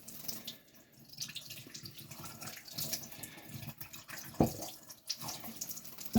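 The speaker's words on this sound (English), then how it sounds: "Now I'm going to wash off this slurry." Water runs from a tap, rinsing slurry off a large Japanese natural whetstone after honing a razor bevel, a steady close splashing stream with a few sharper splashes and no talk.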